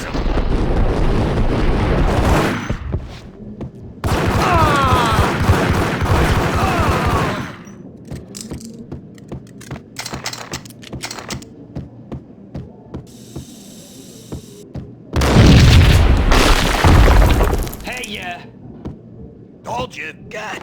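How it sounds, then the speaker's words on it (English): Heavy explosions and bursts of gunfire from the PC game Max Payne come in three loud, roaring blasts of several seconds each, with quieter stretches of scattered shots and voices talking between them. "I thought it was a bomb for sure"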